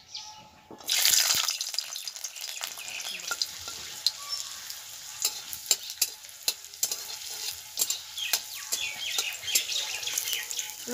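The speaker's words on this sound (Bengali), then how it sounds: "গোটা রসুনগুলোকে ভেজে নেব।" Whole garlic cloves frying in mustard oil make a steady hiss that flares at the start, with sharp clicks of a spatula against the pan at an irregular rhythm, and no talking.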